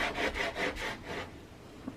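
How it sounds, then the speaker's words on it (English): Tape is burnished down onto fabric with a tool, a soft rhythmic rubbing in four or five quick close strokes before it fades, faint and alone. "Then I'm gonna burnish."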